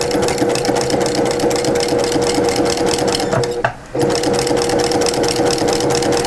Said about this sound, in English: And we're going to start sewing.